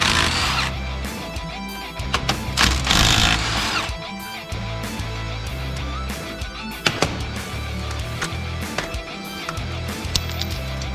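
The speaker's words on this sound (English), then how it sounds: "I'll go for the caliper bolts right now." A Milwaukee power tool zips off brake caliper bolts during a brake job on a car whose brakes grind, with a loud whirring burst early on followed by shorter clattering bursts and metallic clinks nearby.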